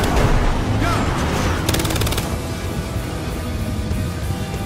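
Gunfire in the Battlefield Hardline video game, a loud, dense stream of shots and rapid automatic bursts filling the whole stretch over a constant rumble of game noise.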